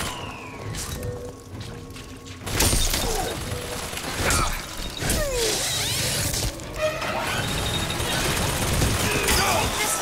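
Rapid bursts of gunfire and sharp impacts crackle through a busy, noisy BioShock Infinite: Burial at Sea soundscape, with metallic clatter and shifting effects throughout.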